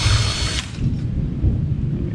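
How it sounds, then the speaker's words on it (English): Power drill boring through the plastic roof of a 2016 EZGO RXV golf cart during an extended top install, a loud close steady whine with no talk. "It's a plastic roof, so it should drill nice and easy."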